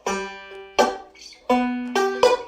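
Banjo playing Scruggs-style backup up the neck with a 4-2-3-1 pinch pattern, a run of bright plucked notes in about four clear attacks that ring on between them, played alone at close range.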